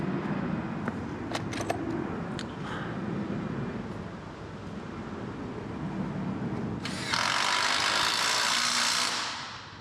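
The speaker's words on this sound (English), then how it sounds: "It's called a grinder. With the cutting wheel." An angle grinder with a cutting wheel bites into a big commercial garage door, starting with clanks and scraping before a loud, steady high-pitched cutting whine takes over for several seconds.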